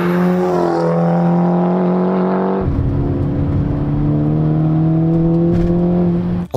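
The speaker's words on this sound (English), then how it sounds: "I really love the sound of this APR cat-back exhaust." Volkswagen Mark 6 GTI fitted with an APR cat-back exhaust idles steadily with a deep, even drone, then shifts into a slightly rougher, lower burble about halfway through, loud and close with no talking.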